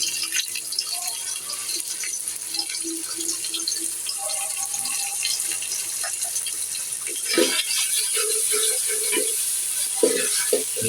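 Ginger garlic paste hitting softly fried onions in a hot pan, a steady faint sizzle with scattered clinks and stirring scrapes that grow busier toward the end.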